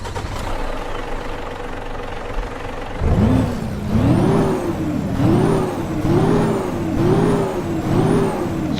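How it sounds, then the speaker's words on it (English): A pickup truck engine cranks and catches after a quiet stretch, then settles into a loud, rough idle with a steady pulsing throb repeating about once a second. "We're gonna turn on the engine now."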